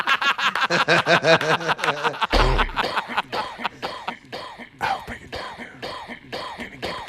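A rapid series of harsh coughs and throat-clearing bursts, close and loud, repeating irregularly throughout.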